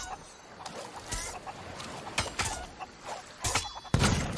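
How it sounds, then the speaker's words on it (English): Chicken clucking in the Sea of Thieves video game, a few scattered clucks and squawks over game ambience, moderately loud with sharper bursts near the end. "Get the chicken."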